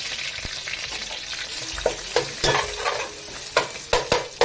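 Garlic sizzles in a hot pan for a crab curry, a steady frying hiss broken by sharp clinks and scrapes of stirring.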